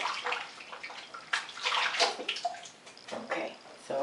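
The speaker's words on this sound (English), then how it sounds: "Just dip it in the water." A razor is swished and dipped in water during a head shave, giving soft splashing and sloshing in a few uneven bursts, close and fairly quiet.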